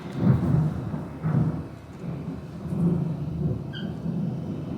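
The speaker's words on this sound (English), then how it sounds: "it's thundering and lightning right now" Low rolling rumbles of thunder from a spring thunderstorm swell and fade in several broad waves, moderately loud and continuous, with no voices present.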